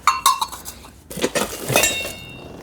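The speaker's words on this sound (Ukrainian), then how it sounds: "Тут тарілки, латунька" Brass plates made in India clink and clatter against each other in a few quick bursts, close by, with a brief pause between handlings.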